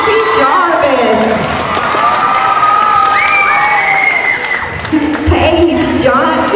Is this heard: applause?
yes